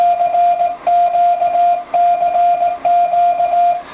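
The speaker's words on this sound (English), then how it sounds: "Now you can hear my keyer inside the FT950." A steady mid-pitched Morse code keyer sidetone from a K1EL K42 keyer, heard through a Yaesu FT-950 radio, beeps in quick dots and dashes, repeating in groups with short gaps, clear and loud with no talking.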